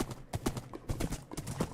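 Horse hooves clip-clopping in the video game Minecraft, a quick steady rhythm of hollow knocks close by, heard alone without talk.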